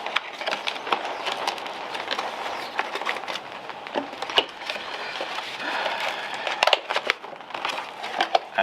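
Crinkly packaging around gravel bike parts, an upgrade groupset, rustles and crackles close by in a steady busy stream of small crunches and snaps, with no talk.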